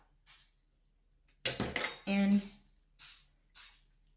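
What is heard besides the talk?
spraying cooking spray onto a spatula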